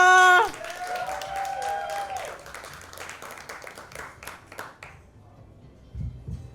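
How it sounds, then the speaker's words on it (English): An audience claps and cheers loudly for several seconds, the applause fading out toward the end. "Get it clapping for Jordan Phipps, y'all."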